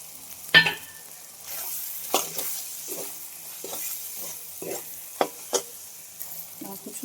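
Shrimp fry in oil in a dry pan, a quiet steady sizzle broken by sharp scrapes and clanks of a spatula stirring, with a loud knock early as pre-fried egg goes in; nobody speaks.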